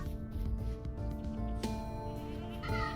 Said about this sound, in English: Oh, it's nice to see all these goats here.